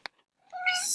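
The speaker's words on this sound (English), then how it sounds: "That was the cat." A short faint tap, then a cat's meow rising clearly and holding strong with a bright, drawn-out tone, close to the microphone.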